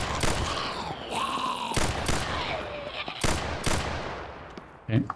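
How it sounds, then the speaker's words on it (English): Gunfire from the zombie survival video game Vein, a burst of loud broadband shots spaced irregularly through the clip, with game ambience and a faint voice underneath. "Mainly what I need is to shoot these zombies in the head."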